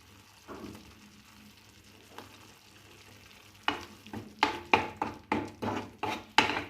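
Onions frying in a pan with masala, ginger-garlic paste, chilli powder and a little salt, starting as a quiet sizzle and then broken by a run of sharp, loud stirring scrapes at a steady rhythm.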